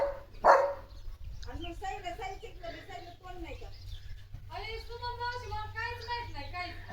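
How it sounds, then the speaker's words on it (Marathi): Leo, a German Shepherd, lets out one sharp bark near the start, then gives further calls and whines at an unfamiliar sound, all mixed under people talking nearby. "भुंकतोय."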